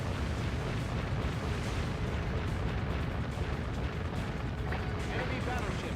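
Naval gun salvos and ship explosions in the Warship Gunner 2 video game, in Tsukuba survival mode, form a dense, continuous roar of booms and blasts with no clear gaps.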